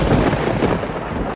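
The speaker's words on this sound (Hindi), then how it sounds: "ये बिना मौसम की गरजती हुई बारिश हमें क्या संकेत देती है?" Thunder from a sudden out-of-season rainstorm rumbles loud and close, a dense continuous roll that cuts off abruptly.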